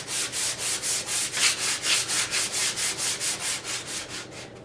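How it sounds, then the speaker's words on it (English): Hand sanding a painted wooden dresser between coats of paint: brisk, even back-and-forth strokes, about fifteen in a steady rhythm, close and clear with no talking. "Now that my first coat of paint is dry, I've gone ahead and started sanding my piece."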